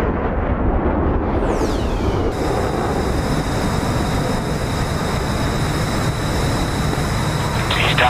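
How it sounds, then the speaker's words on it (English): A loud, continuous jet roar with a sweeping whine passes in the flight combat simulator DCS during a bridge-bombing mission, a sustained blast of engine noise and booming from fast aircraft with no speech heard. "Everyone stop sonic booming me!"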